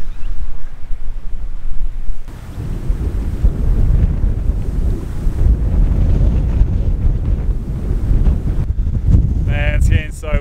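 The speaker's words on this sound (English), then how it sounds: "Man, it's getting so windy now." Strong wind at a lake during a trout fishing trip batters the microphone with loud, continuous rumbling gusts. It eases only briefly before building again, with a bit of rustling near the end.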